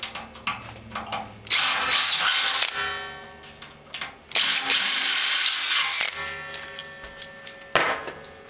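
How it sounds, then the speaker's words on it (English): A power drill with a quarter-inch bit enlarging a hole whines in several bursts, spinning up loudly, running for a second or two, then easing off, with brief clicks between runs. "I'm going to use a quarter inch drill bit now to make this a little bit bigger."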